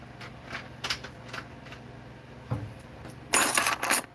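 Keys jingling, scattered metallic clinks and rattles in short bursts, with a louder shake near the end, up close and without talking.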